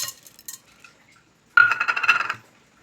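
Dry sago pearls poured into a bowl, a brief dense patter of small hard beads rattling for under a second, close and clear, preceded by a few faint clinks in an otherwise quiet room.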